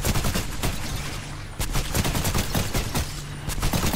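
Dense rapid gunfire in Apex Legends, overlapping automatic bursts and impacts in a continuous loud barrage with brief lulls.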